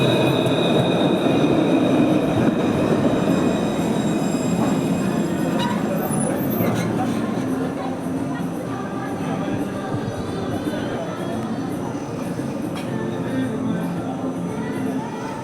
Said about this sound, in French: Donc là, il y a une rame qui arrive de l'autre côté en direction de la mousse.